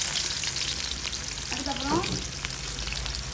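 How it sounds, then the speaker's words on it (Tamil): Finely chopped large onion sizzles steadily in a pan for a village chicken egg curry, a continuous close frying hiss with a brief stirring scrape midway; a voice speaks a word over it. "வெங்காயம் நல்லா கொஞ்சம் வதங்கட்டும்."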